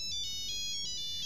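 A phone ringtone plays a repeating bright electronic melody, a few quick pulses over about a second, clear and alone against a faint background.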